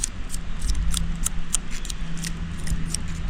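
Dry, papery straw flowers in a garden are rubbed and handled, giving a stream of crisp crackling rustles close up over a low background rumble.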